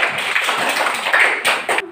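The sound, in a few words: applause, clapping hands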